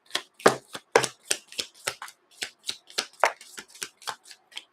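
Oracle cards being shuffled by hand, a rapid run of about fifteen crisp papery riffs and slaps, close and fairly quiet, with no talking.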